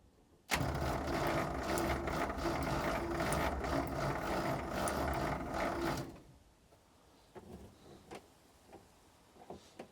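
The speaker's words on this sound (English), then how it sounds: "I'll turn it over a bit and see if it sucks, see if I can see any fuel sucking up." An old International Acco 4x4 truck engine being cranked over, a loud steady mechanical churning for about five seconds that stops abruptly, followed by faint clicks and knocks.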